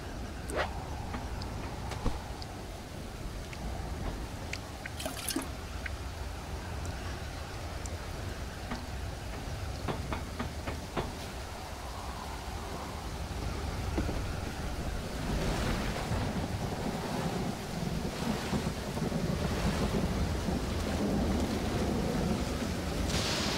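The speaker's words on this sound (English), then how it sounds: "Oh geez, I think we have a full-blown storm coming in again." Stormy weather in the island survival game Stranded Deep, with steady rain and wind, waves washing in that swell louder toward the end, and a few sharp cracks scattered throughout.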